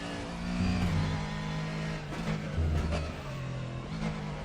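A Ford GT3 race car engine in the RaceRoom racing game drones and rises in pitch with repeated revving swells and gear changes, steady and close throughout.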